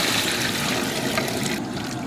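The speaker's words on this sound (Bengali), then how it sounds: "ভেজে নেওয়া আলুর পাশাপাশি দিয়ে দেবো আমি, দেওয়ার দরকার হয় গরম জল, তবে আমি দিচ্ছি ঠান্ডা জল।" Cold water pours steadily into a pot of mutton curry with fried potatoes, a continuous close splashing wash that eases slightly near the end.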